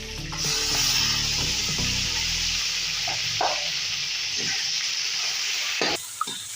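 Onion paste goes into a pan of browning duck meat, setting off a loud, hissing sizzle that eases into a steady frying hiss with a few stirring scrapes, up close and without speech.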